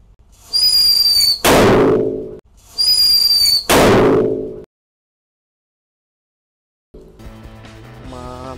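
A large paper-bundle firecracker set off inside an empty house: two loud bursts, each opening with a whistling, crackling fizz and ending in a sharp echoing blast, then a few seconds of silence before a quieter tonal sound begins.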